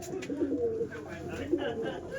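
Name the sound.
pigeon cooing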